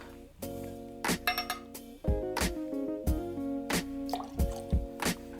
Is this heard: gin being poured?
yes